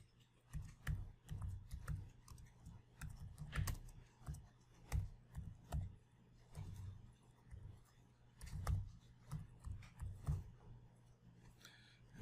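Keys clatter on a computer keyboard while text is typed into a PowerPoint comment, irregular bursts of close clicking that pause briefly between words, with no talking.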